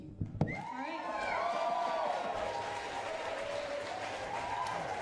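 A crowd at a lively political candidate forum claps and cheers, a few sharp shouts up front swelling into steady, sustained applause with whoops over it.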